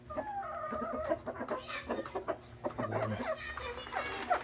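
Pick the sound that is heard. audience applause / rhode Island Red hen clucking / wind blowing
rhode Island Red hen clucking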